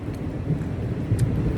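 Steady outdoor rain falls during a thunderstorm, with a low rumbling roar underneath that may be distant thunder or wind. The sound is continuous and moderately loud, with no speech.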